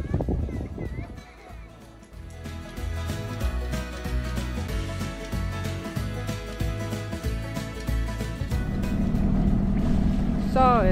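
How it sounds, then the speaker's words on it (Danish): A small motorboat pulls away from a harbour on the Swedish coast, its engine droning steadily and rising slightly in pitch as it speeds up, with people talking over the motor. "Så sejler vi fra Kælkerøen."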